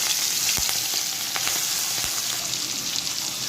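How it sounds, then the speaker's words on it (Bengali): Prawns frying in lightly salted white oil, a dense continuous close sizzle with a few faint ticks of spatula or pan, no voices. "চিংড়ি মাছগুলো ভেজে নিচ্ছি।"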